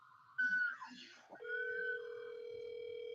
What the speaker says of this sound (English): Someone's phone going on.